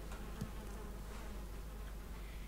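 Bees buzz softly around a beehive in the video game Valheim, a faint steady insect drone with no voices over it.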